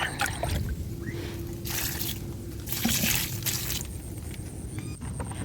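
Liquid fertilizer mixture is poured onto the soil at the base of a mango tree, giving close, continuous gurgling, splashing and squishing as the ground soaks it up, with a few louder gushes.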